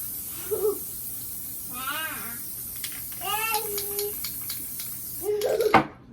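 A short hiss of spray paint onto paper near the end, preceded by a voice talking and a few light clinks.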